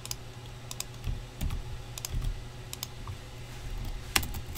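Someone types on a computer keyboard while doing a fantasy-soccer draft: quiet, irregular bursts of key clicks and taps, close by, with brief pauses between flurries and one sharper click near the end.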